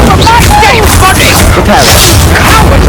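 Incendio fire spell blasts during a Hogwarts Legacy battle, booming bursts rolling under shouted voices and game chatter, loud and busy throughout with repeated impacts.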